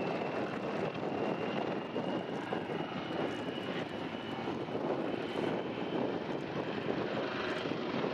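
A fixed-wing aircraft engine roars steadily throughout, a broad droning rush from a display flyby at the Royal International Air Tattoo 2016, with some wind buffeting the microphone.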